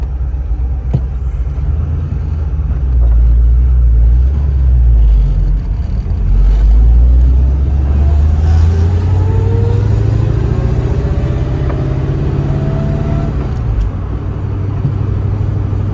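A 1938 Chevrolet Master Town Sedan hot rod with a 5.7 V8 pulling through a turnaround in third gear, a loud, deep, continuous engine rumble heard from inside, with the pitch rising steadily as it accelerates.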